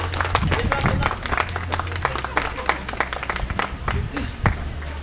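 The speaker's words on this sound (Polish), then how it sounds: "Brawa, brawa, witamy wszystkich. Dla wszystkich są brawa." Crowd clapping at a 3 km Papal run in Ostrołęka, Poland, brisk individual claps scattered over a steady low hum, with an announcer's amplified voice talking through the applause.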